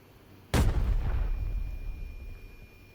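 Grenade blast in the video game Arena Breakout: one sudden loud boom with a sharp onset, then a long rumbling decay fading over about two seconds, with no talk.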